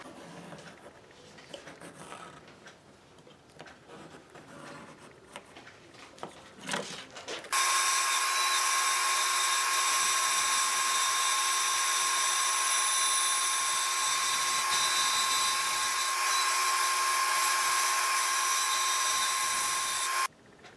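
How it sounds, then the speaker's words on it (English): Bandsaw roughing out and sanders trimming a new pickguard for a 1947 Gibson L7 archtop guitar: faint workshop clatter, then a loud, steady machine whine that holds for about thirteen seconds before cutting off. "So I'll rough it out on the bandsaw and then trim it to shape with the sanders that I have."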